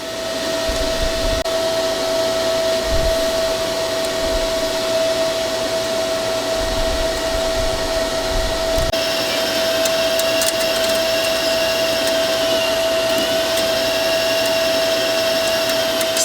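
A Vulcan welder runs with welding wire, solid or flux-cored, giving a loud, continuous buzzing hiss with a steady tone and occasional low thumps, unbroken and without talk.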